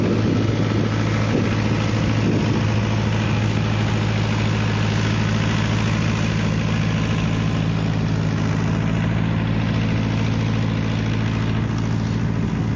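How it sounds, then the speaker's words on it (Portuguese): A truck's heavy engine rumbles loudly and steadily throughout, a low, constant drone that neither fades nor pauses, with no voices. "Vai passar aqui um caminhão"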